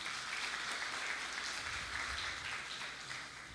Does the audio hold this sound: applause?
yes